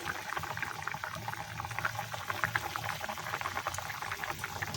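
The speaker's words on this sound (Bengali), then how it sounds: "জলটা ফুটছে এবার একটু নুন দিয়ে দেবো" A cooking pot of water boils for a vegetable curry, giving a steady, close, low bubbling and gurgling that runs without break.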